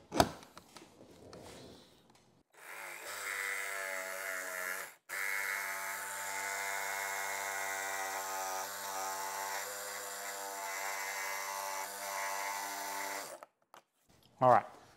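A Milwaukee power saw drops its blade into a pre-drilled hole and cuts a 6x9 speaker cutout along a traced pattern, a loud steady buzzing whine running about ten seconds with a brief break, starting and stopping abruptly.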